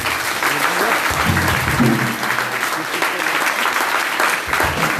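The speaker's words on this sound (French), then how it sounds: "Si ça vous plaît, on acclame le Seigneur." Church congregation applauding to acclaim the Lord, a loud, dense, continuous clatter of many hands clapping, with a few voices calling out faintly underneath.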